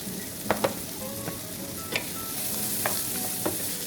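Seasonings and herbs for a coconut king fish curry sautéing in a pan, a steady sizzle broken by scattered sharp clicks and scrapes of stirring, close by and without voices.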